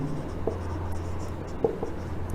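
Chalk or marker scratches across a board during a biology lecture in a classroom, a soft continuous scraping with a couple of faint taps, close and moderately loud over a low background hum.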